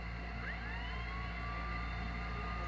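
A wailing siren rises and sweeps over a dense, steady roar of a huge crowd, serving as entrance music at WrestleMania 39 in Los Angeles with about 70,000 people present, continuous and loud throughout.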